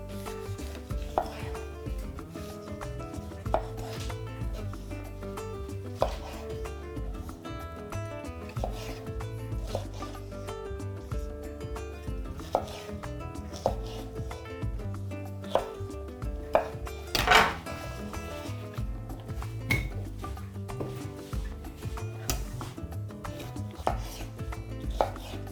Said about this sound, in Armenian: Շատ մանր չենք կտրատում